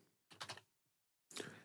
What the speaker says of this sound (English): I started typing